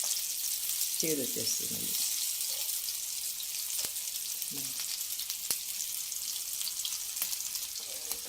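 Masala frying in a pan, a steady sizzle with stirring scrapes throughout, while someone speaks Telugu over it.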